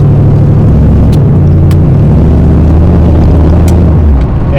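A classic car accelerates hard, its engine drone loud and close, and the pitch drops and climbs again as it shifts through gears on the way up.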